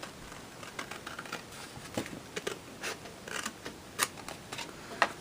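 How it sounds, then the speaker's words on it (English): Scissors cutting through paper card for a treat card, with a run of quick crisp snips and rustles at close range, fairly quiet and irregular. "get my scissors out and cut it off"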